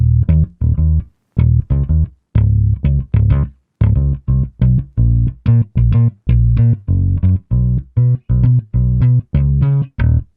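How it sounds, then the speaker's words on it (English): A Retro 60s bass guitar sound from a production plays a steady run of short, punchy, plucked notes in a tight rhythm, loud and upfront with nothing else playing. "The other bass is a bass guitar, specifically the Retro 60s made in Trillion"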